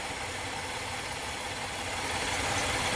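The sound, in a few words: 2013 Chevrolet Impala engine idling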